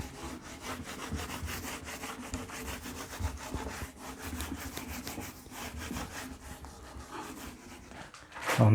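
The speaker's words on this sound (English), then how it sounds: "so we can just rub it out, this one" Rubbing out writing on a classroom board, a steady rhythmic scrubbing back and forth that continues close and moderately loud for the whole stretch, ending with a louder knock.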